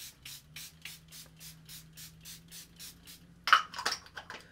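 Makeup setting spray pumped in a rapid, even run of short close hisses, followed by a louder burst of rubbing and handling noise near the end.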